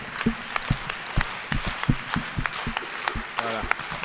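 A French gala audience claps steadily, individual hand claps standing out in an irregular rhythm, with a voice speaking over it near the end.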